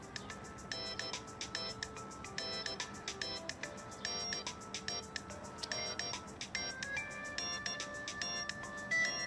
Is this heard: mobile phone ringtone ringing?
yes